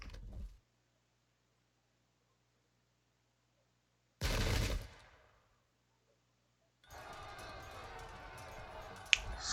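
Matchlock volley from peasant gunners in the Sengoku Jidai strategy game: a single sharp burst of gunfire stands out mid-clip, followed later by a dense, sustained battle clatter, with long quiet gaps between.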